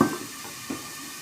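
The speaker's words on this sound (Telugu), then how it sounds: "కొంచెం బాగా వేగాలి నూనెలో మిరపకాయలను" Onions and green chillies fry in hot oil for a spicy prawn curry, giving a faint, steady sizzle with a couple of soft stirring knocks near the start and in the middle.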